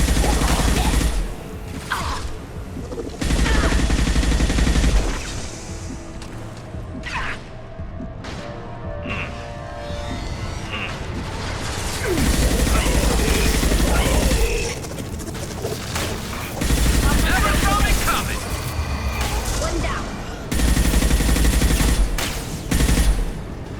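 Sniper rifle fire in the sci-fi shooter Mass Effect 2, mixed into loud, busy combat noise with sharp repeated cracks and blasts spread across the stretch, the shots intermittent and alternating with quieter gaps.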